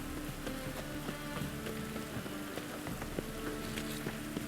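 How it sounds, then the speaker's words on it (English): Steady rain in The Witcher 3: Wild Hunt patters and hisses on a surface, with scattered drops ticking faintly over a quiet background. "Looks like rain."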